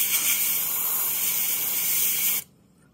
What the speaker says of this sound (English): so I'm just gonna spray it in.